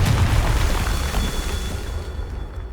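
A Confringo spell blast in Hogwarts Legacy erupts as one loud, booming explosion with a heavy low rumble that decays over a few seconds, heard alone without voices.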